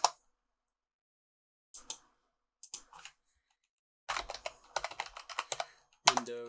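Scattered bursts of clicking keys on a computer keyboard, short isolated taps followed by a denser run of typing, close and crisp with silence between bursts.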